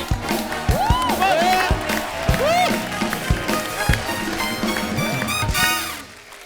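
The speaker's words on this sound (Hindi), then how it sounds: "एक बार जोरदार तालियां हो जाए।" Studio audience applause and cheering on a comedy talk show, dense clapping and crowd noise sustained throughout, loud and close, with voices and whoops mixed in.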